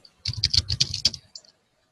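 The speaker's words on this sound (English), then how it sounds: "all these commands I'm typing" Fast bursts of keystrokes on a computer keyboard while entering commands, a quick run of close clicks lasting about a second then stopping.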